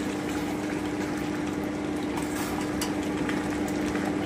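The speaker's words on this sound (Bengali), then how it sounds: "একটু নেড়ে দিচ্ছি।" Pineapple chicken simmering in a pan while being stirred, a dense, steady bubbling and hissing wash that stays loud and even throughout with faint scraping on top.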